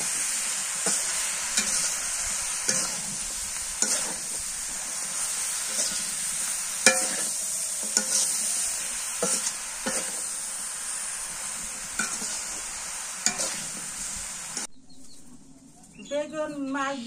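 Fish broth is poured into a pan of fish and brinjal curry. A steady, loud sizzle with scattered clicks of stirring runs throughout, then it cuts off near the end into a quieter stretch with a few soft high calls.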